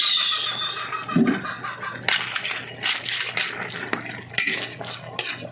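Vegetables are stirred in a cooking pot of ginataang gulay with jackfruit, producing close, clattering scrapes and knocks of a utensil against metal in irregular bursts, with a faint whistling tone early on.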